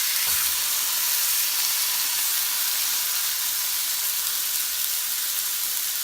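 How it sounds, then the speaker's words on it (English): Chicken fajitas sizzling steadily on a hot skillet, a continuous bright hiss of frying that holds even and close throughout with no voices. "Let's get these on the skillet"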